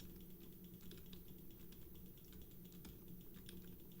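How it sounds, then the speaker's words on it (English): Rapid small plastic clicks from a computer mouse and keyboard during a Dinkum gaming session, faint and irregular against a steady background hum, with no voice. "It's the mouse for me. I'm really hoping you guys can't hear that clicking."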